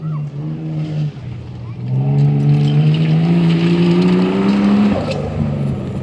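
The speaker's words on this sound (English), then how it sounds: "I think it broke an exhaust. It sounds thick and delicious." Off-road race car with a broken exhaust, its engine a deep, throaty drone that revs up and holds a rising pitch, then drops off, loud and close, with commentary voices under it.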